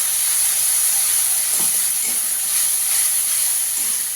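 A paste of onion, garlic, tomato, coriander and green chilli sizzles in a hot pan, a loud, even, hissing spatter that holds steady throughout with faint clinks beneath.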